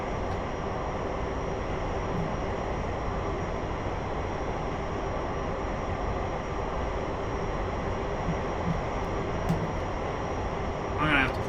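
A steady, even roar of a T-45C jet climbing out after takeoff in a flight simulator game, continuous engine drone throughout with no speech.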